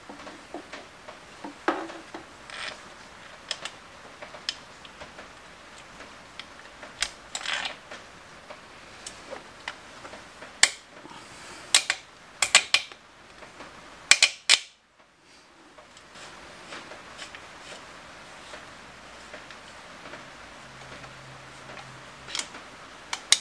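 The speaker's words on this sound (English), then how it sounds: "just got to put a nut on the back side of that bolt, but it all goes through and cinches up" Bursts of close metallic ticking and clicking from a nut being spun and tightened onto a bolt through motorbike engine cases on a Honda Hobbit PA50, with irregular quick clicks, a short silent pause and fainter ticks after.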